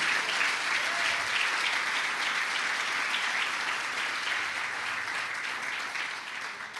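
A church congregation claps together as an offering to God, a dense, sustained wall of applause from many hands that holds steady for several seconds and eases slightly toward the end.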